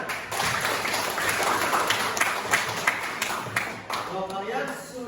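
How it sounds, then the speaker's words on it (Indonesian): Students in an Indonesian classroom clap together at the start of a lesson, a busy, fairly loud burst of hand clapping mixed with voices talking over it. "Nah, tepuk tangan."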